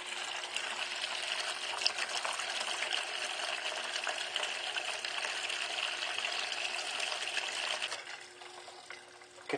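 Water pours and trickles steadily through the saturated blue pad of a DIY dual-bucket evaporative air cooler tower, a continuous close rushing that fades near the end.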